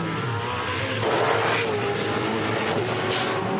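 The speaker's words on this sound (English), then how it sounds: "Out goes car 4, Craig Baird." A V8 Supercar, car 4, leaves the pit lane during the 2013 Gold Coast 600: a loud engine roar revs and rises in pitch, with a brief high hiss near the end.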